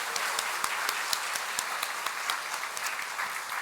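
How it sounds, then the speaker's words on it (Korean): A church congregation at a Catholic seminar claps in thanks to the priest, steady, dense applause filling the hall from start to finish with no talking. "신부님은 가셨지만 감사의 박수를 다시 한번 올려드리겠습니다."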